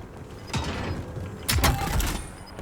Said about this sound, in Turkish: Pardon bir kapıyı yanlış açtım.